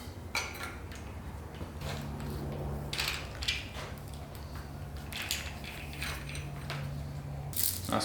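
An 8mm or 10mm ratcheting spanner strips the oil pump, timing chain and guides from a Ford FG Barra engine during a teardown. Continuous close metallic ratcheting and clinking of parts runs throughout, with a few louder clanks.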